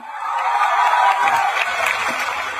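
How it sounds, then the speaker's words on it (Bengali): Audience at a student festival in Debidwar breaking into loud, sustained applause with scattered cheers, a dense crowd clapping steadily throughout. "এটা জেনে আমরা এখন জোরে একটা হাততালি দিতেই পারি।"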